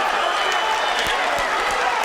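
A boxing crowd on its feet roaring after a knockdown, a dense, loud, sustained wash of cheering and noise with a commentator's voice over it.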